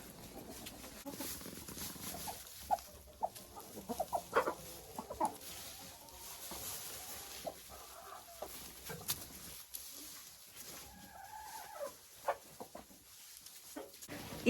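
Hens in an enclosure cluck intermittently over a steady ambient hiss, with short soft clucks and a few sharper calls scattered throughout, moderately near.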